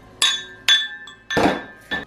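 Textured etched glass dishes, crystal and china tea ware, are handled close by. Four sharp, bright clinks land at uneven intervals, with short ringing decays and quiet gaps between them.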